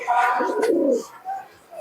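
A Giribaz pigeon gives a single close, loud coo lasting under a second, followed by fainter soft calls.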